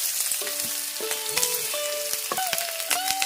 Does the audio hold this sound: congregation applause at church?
no